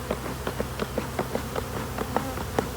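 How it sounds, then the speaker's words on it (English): Honey bees buzz in a hive tucked behind a clothes dryer, a faint, steady hum with a string of soft, evenly spaced taps or knocks over the drone, no voices. "there's a lot of bees in here."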